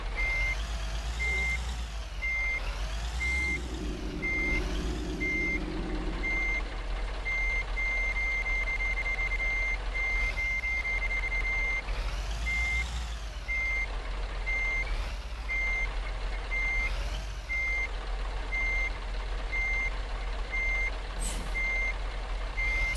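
Repeated electronic reversing beeps from a truck backing up in the Truck Simulator Ultimate mobile game, a steady evenly spaced series over a continuous engine rumble, with a brief air-brake hiss near the end.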